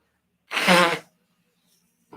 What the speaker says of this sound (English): Oh, I'm going to blow my nose.